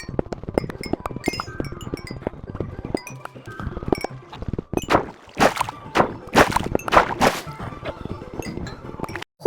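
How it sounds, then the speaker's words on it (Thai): Coal ore is mined with a pickaxe in Minecraft, making rapid, continuous clinking and chipping hits that build into louder, denser cracks toward the end. "ทุกคนก็ดูหนูขุดถ่านเหมือนกันก่อนนะคะ"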